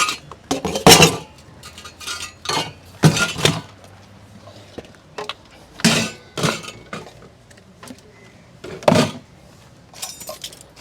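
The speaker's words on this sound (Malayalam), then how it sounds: "പാത്രങ്ങൾ ഇതെല്ലാം അതിലോട്ടിടാം" Metal utensils, spoons and dishes are dropped into a bucket, making a series of separate loud clanks and clinks with quiet pauses between them and no speech.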